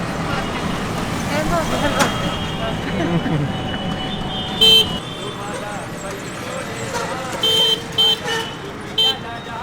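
Busy street traffic in Jaipur's old Pink City, with vehicles rumbling and several short car horn toots popping out near the end, while people talk over the noise.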